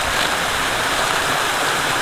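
Water in a stream beside a trail flows in a steady, dense rush that stays constant and fairly loud with no break.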